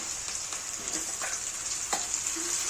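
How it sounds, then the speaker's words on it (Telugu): Blended mint paste for mint rice hits a hot pan with a high, steady hiss, punctuated by a few brief spatters and light stirring clinks. "ఇందులో మనం ముందుగానే మిక్సీ చేసి పెట్టుకున్న పుదీనా పేస్ట్ వేసి"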